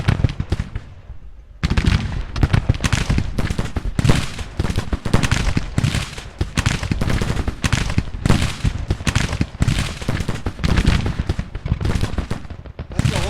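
Dense musket volleys and cannon fire roar from a Grand Tactician Civil War battle, with sharp, nearly continuous gunshot cracks and booms layered loudly throughout after a quieter opening.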